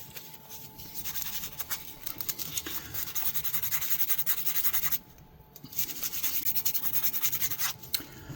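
Vintage shaving brush handle wet-sanded with 2000 grit sandpaper, a quiet close-up rubbing and scratching in steady back-and-forth strokes with one short pause midway, alone without speech.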